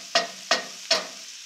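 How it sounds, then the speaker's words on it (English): Vegetables and capers being stirred in a baking pan for one-pan cod with asparagus, artichoke hearts and olives: three quick, evenly spaced scraping strokes, close and crisp, with no talking. "Let me give this a quick stir first"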